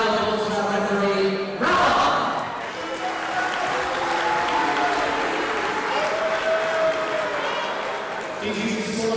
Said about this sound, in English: Let's have a round of applause for our referee.